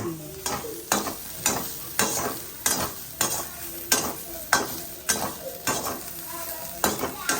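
Food frying in a hot pan in a home kitchen, with a steady sizzle under regular stirring scrapes that repeat about once every half second throughout, close and fairly loud.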